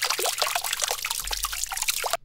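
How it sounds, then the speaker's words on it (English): Water trickles and dribbles in a steady, close stream, with bright splashy droplets bubbling continuously and no other sounds until it cuts off abruptly at the end. "So let's say I have this water sound,"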